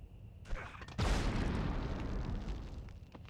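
A loud burst as a shot box explodes in Medal of Honor, with a sharp impact followed by a rumbling, debris-filled roar that fades slowly.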